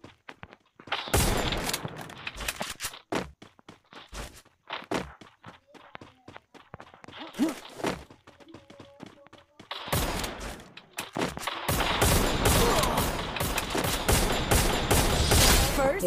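Gunshots in a one-on-one custom match of a shooting video game, first scattered single cracks and footsteps, then sustained heavy bursts of rapid fire toward the end, loud and close.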